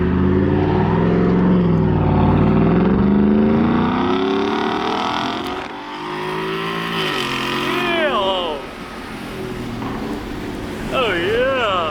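A 2024 Ford F-150 with a 5.0 V8 and Corsa catback exhaust, a loud deep rumble that swells and falls as the truck drives off, with voices talking over the engine.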